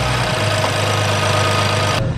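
A high-mileage BMW 435i engine runs rough with a loud, uneven droning hum and knocking vibration close by, steady for about two seconds before cutting off abruptly.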